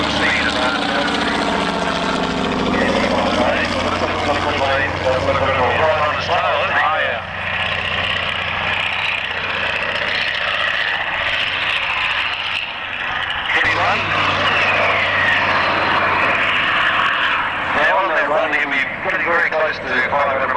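An SE5A biplane and a second aircraft fly at an air show at Matamata Airfield, giving a loud, continuous engine drone with steady low hum that swells and dips slightly, while a voice talks over it throughout.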